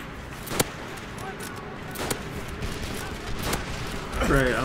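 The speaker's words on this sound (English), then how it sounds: "Artillery, no." Artillery fire in a war video game, several distant booming blasts spaced out over a continuous battle rumble, with a voice talking briefly near the end.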